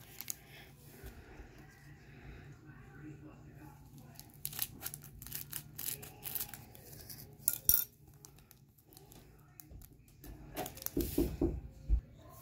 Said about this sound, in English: I got some scissors here.